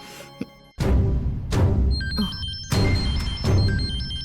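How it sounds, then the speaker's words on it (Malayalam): A mobile phone ringing in a domestic TV drama scene: a bright electronic melodic ringtone that enters partway through over loud, repeated drum-like hits of background music. "തന്റെ ഫോൺ റിങ് ചെയ്യുന്നു."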